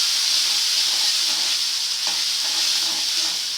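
Gram flour with turmeric roasting in a pan while being stirred, a loud, steady, hissing sizzle that barely changes, with faint scraping underneath.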